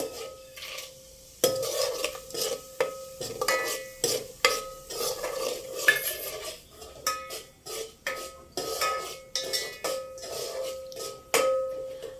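Cashews are stirred in a metal pan while cooking veg pulao. A spoon scrapes and clinks against the pan in irregular bursts, close and fairly loud, with no talking.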